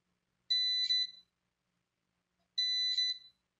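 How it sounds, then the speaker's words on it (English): An Arduino RFID security system's buzzer sounds a denied-access alert: two identical loud, steady electronic beeps, each lasting under a second, separated by a couple of seconds of silence. "buzzer is sounding on, which means that it does not have any access to my system"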